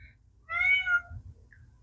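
A cat gives a single clear, drawn-out meow in the middle of a quiet room, close and distinct, with a faint short chirp near the end.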